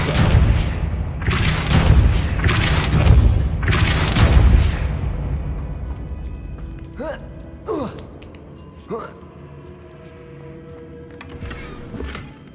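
Spell casts in Hogwarts Legacy, a heavy booming burst of force sounding repeatedly in the first few seconds, followed by quieter sharp impacts and clatter of the game world.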